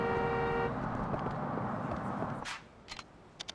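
Car horns honk in Yakuza 3 Remastered on the streets of Okinawa: a sustained horn blast up front, then a few short, sharp honks and clicks as the street noise drops away.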